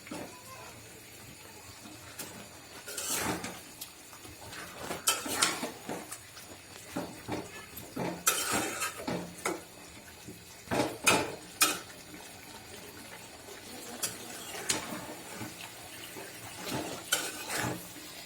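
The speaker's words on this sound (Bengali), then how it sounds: "বারবার ঢাকনা খুলে নেড়ে চেড়ে দিতে হবে" A pot lid lifted and broiler chicken stirred for a dark, dry bhuna curry, with repeated metallic scrapes and clinks of the spoon against the pot over a soft sizzle.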